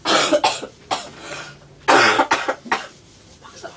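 Repeated coughing in short harsh bursts, a few quick coughs, a pause, then another rough cluster of coughs, fairly close and loud.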